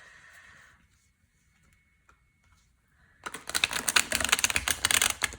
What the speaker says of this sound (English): I need to shuffle these good because they were in order.